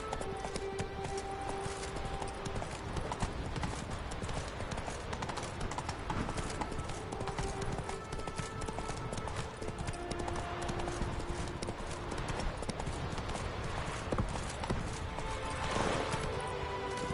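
A horse gallops in The Witcher 3, hooves clip-clopping continuously in a fast, even rhythm for the whole stretch, with a faint whinny amid game ambience.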